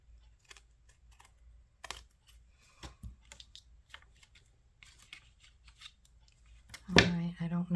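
Scissors snip through a paper lace pocket on a folio in a scattering of small, quiet cuts and paper rustles, closing with louder handling noise and a brief voice.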